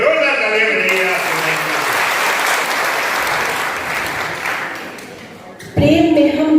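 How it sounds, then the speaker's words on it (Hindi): Loud, sustained audience applause at a Hindi kavi sammelan poetry gathering in Sitapur, a dense wash of clapping that fades gradually before a voice cuts in near the end. "एक बार जोरदार तालियां बजाइए आप।"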